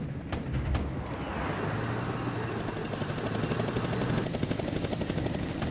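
Massed military helicopters in the Cold War wargame Flashpoint Campaigns: Red Storm give a steady, dense rotor rumble with broadband whooshing that holds throughout, loud and unbroken, with a couple of sharp bursts near the start.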